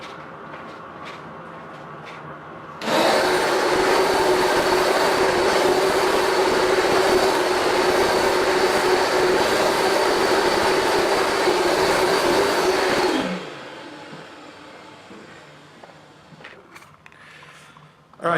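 A Rug Doctor Mighty Pro X3 or Bissell DeepClean ProHeat carpet cleaner starts abruptly, roars as a loud steady motor whine for about ten seconds, then winds down and stops.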